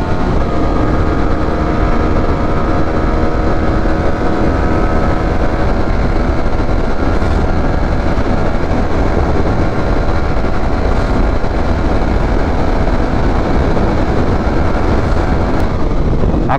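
A 2023 Honda CB250R motorcycle at speed gives a constant loud engine drone blended with heavy wind rush, steady throughout with no pauses.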